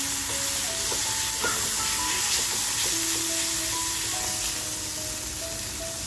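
Raw chilli thecha sizzles and hisses steadily in a pan as it sautés, a continuous frying noise with faint tonal whistles layered on top.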